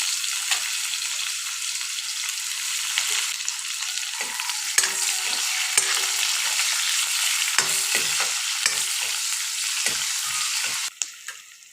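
Green chilies and onion hit hot oil that fish was fried in, with potatoes in the pan, and crackle into a loud, steady, close sizzle punctuated by sharp pops and spatters, easing off at the very end.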